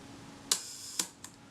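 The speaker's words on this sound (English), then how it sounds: "That's released the shutter." The shutter of a Kodak Retina IIIc is released, giving two crisp close mechanical clicks about half a second apart followed by a fainter third tick, over a quiet background.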